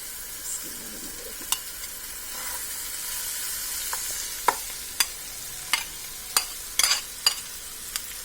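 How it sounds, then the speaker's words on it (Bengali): Rice with fried egg and meat is stir-fried in a pan, giving a soft steady sizzle punctuated by sharp scraping and tapping clacks of the spatula every second or so. "এখন দিয়ে দিব ভেজে রাখা ডিম এবং মাংসগুলো। আমরা এটাতে দিয়ে দিচ্ছি।"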